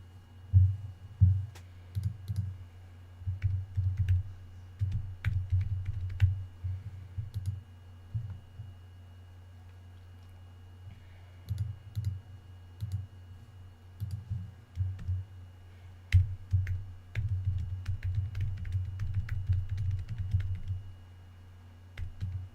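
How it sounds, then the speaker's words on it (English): Quick typing on a computer keyboard comes in bursts of rapid clicking keystrokes, separated by short pauses, close and clear over a faint steady hum. "was just quickly typing"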